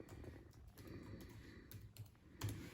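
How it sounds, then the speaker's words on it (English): Quiet, irregular keystrokes on a computer keyboard as a password is typed, a handful of light clicks with one slightly louder tap near the end, in a calm room. "So I put my password, and the computer is up."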